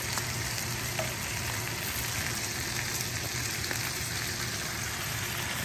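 Sausages, potatoes and onions fry in a cast iron skillet with a steady, close sizzle and crackle that runs unbroken throughout, no talking over it.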